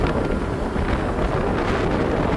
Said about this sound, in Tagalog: Ang medyo mahirap pa ngayon dito sa ruangan ay hangin.